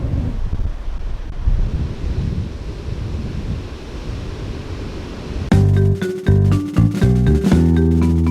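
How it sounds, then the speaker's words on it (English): Wind blowing on a beach at Padre Island on the Gulf Coast, loud gusty roar buffeting the microphone with surf, then abruptly giving way to music. "that should block the wind completely"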